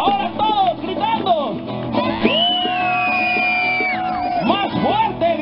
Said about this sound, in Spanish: Más fuerte, gritando, gritando, gritando